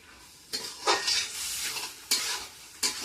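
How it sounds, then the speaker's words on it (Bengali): Chicken is stirred with spices in a pan, giving a few distinct scraping strokes over a soft, steady sizzle, close and fairly quiet with no talking. "দিয়ে এভাবে নাড়াইয়ে মিশাইয়ে ঢাকা দেবো।"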